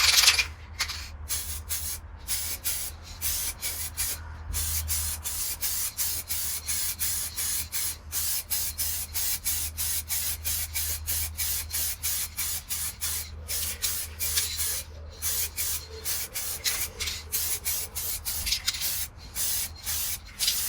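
An aerosol spray paint can hisses steadily onto the front wheel of a 1998 Suzuki GSX-R 600 SRAD during home painting, sustained close spraying broken by short pauses and nozzle bursts, with no talking.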